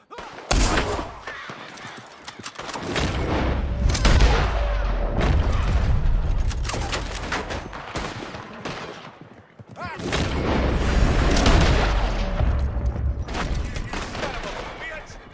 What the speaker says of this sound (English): There's one shooting from up in that building.